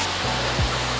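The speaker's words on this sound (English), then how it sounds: "this waterfall looks super nice" A waterfall along the Mae Hong Son Loop in northern Thailand roars as a loud, steady wash of rushing water, with a couple of brief low thumps beneath it.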